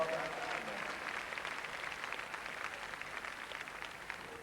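A crowd at the Crufts dog show applauds a gun dog handling demonstration, a steady, moderately distant patter of clapping that continues evenly, with a commentator's voice faintly over it.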